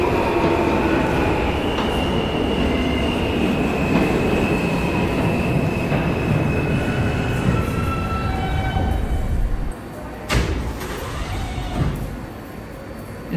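R160A G subway train rumbling along in a Roblox recreation of the MTA IND Crosstown Line, loud continuous wheel roar with a faint whine, then a drop in noise and sharp clicks as it slows.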